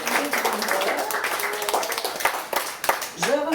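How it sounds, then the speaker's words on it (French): Clapping for the witnesses at a wedding reception, a mixed burst of hand claps running through the room under a lively background of voices and music. "On applaudit nos témoins, Maxime Turgeon-Gauthier."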